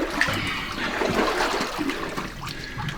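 Water sloshing and splashing steadily as someone wades through roughly knee-deep water in a flooded underground mine, a continuous near wash of trickles and splashes with no talk.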